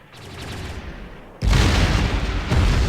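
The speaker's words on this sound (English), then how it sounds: "this being the older style of base, it is actually opening fire at its attackers" In the space strategy game Distant Worlds, an older-style base opens fire at attackers with a dense barrage of booming, rumbling weapon blasts that swells loudly after a quieter start.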